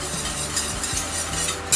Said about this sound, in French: je mélange toujours pour être sûr que ça ne brûle pas dans le fond